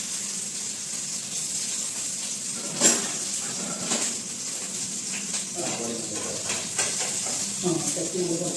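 Garlic cut into thick pieces fries in a hot pan with a soft, continuous sizzle, broken by a few spoon scrapes and clinks near the end, while someone talks.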